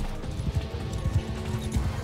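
Horses gallop in a Bannerlord battle, with rhythmic hoof clip-clops repeating about every half second, fairly close and clear, with faint background noise.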